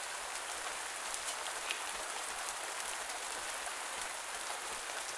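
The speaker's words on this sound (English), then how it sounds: "Don't run around in the rain for too long." Rain falling in the farming video game Pumpkin Days: a steady, dense hiss of rainfall with faint scattered drop patters, constant and unbroken, with no voices.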